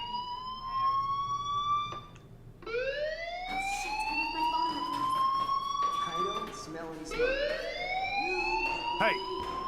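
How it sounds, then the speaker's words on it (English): Fire alarm in the Life is Strange video game, rising and wailing in repeated sweeping siren tones that restart every few seconds, loud and continuous. "do you hear that fire alarm? That means you should be outside."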